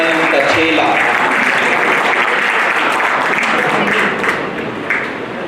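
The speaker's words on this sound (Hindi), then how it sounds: "जोरदार ताली से स्वागत किया जाए" Loud applause welcomes a second-place winner at an oratory award ceremony, a dense continuous round of clapping with voices mixed in that eases off toward the end.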